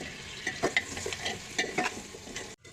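Potatoes tumbled into mutton frying in a pan, then stirred. Close, irregular scrapes and stirring strokes sound over a steady sizzle, with no voices.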